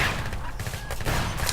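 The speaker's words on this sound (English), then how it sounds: "The cannon's trying to do its thing." A cannon card firing in a video game, a quick run of punchy shots in a busy, noisy mix of rapid cracks and bursts.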